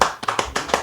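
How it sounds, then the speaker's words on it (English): A few people clap in a short, uneven burst, four or five distinct hand claps close up with brief gaps between them. "Give them a round of applause, people."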